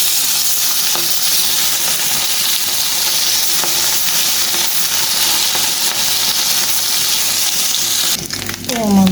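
Fish pieces coated in turmeric frying in hot oil with onion, green chilli and coriander leaves, a loud steady broadband sizzle that runs almost the whole time, then brief clattering and a tap-like trickle near the end.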